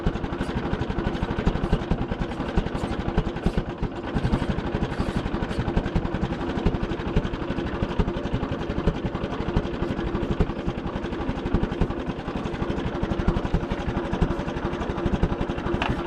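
An Oliver Super tractor engine idles very slowly at about 400 RPM, a loud, close, continuous low chugging with an even rapid pulse and no voices.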